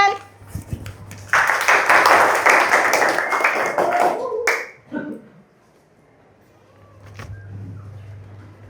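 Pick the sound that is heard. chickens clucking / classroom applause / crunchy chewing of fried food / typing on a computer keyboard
classroom applause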